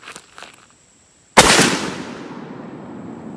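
A single loud shotgun blast, a 10 or 12 gauge firing a heavy magnum load at a patterning board 30 yards away, booms outdoors after a couple of faint clicks and then rolls off in a long echoing decay.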